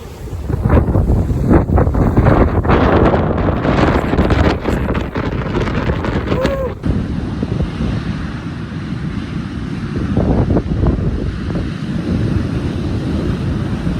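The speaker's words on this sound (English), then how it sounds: "It's real windy." Strong wind buffets the microphone from a cave shelter on the Iceland coast, a loud continuous roar with gusty surges throughout and no voices.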